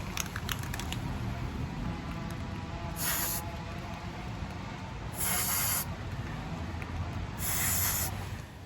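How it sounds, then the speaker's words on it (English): A Rust-Oleum spray can hisses in three short bursts, each about a second long, coating freshly drilled holes for a side ladder install, with faint handling noise between sprays. "I'm going to spray some Rust-Oleum on this"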